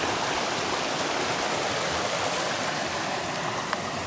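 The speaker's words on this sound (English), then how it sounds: "So water's coming in from in the main channel." Water pours steadily from a main channel into the intake of an off-grid micro hydro system, a dense, constant rushing flow like a small stream, close and loud, with no talking.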